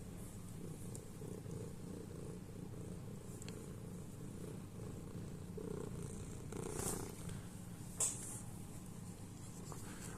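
A cat purrs close by in a quiet room, a soft, steady low rumble that continues throughout, with a few faint clicks and rustles.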